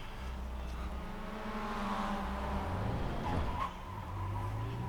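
A Mazda MX-5 race car engine drones under throttle on track, its pitch rising and falling through gear changes, loud and close from inside the car.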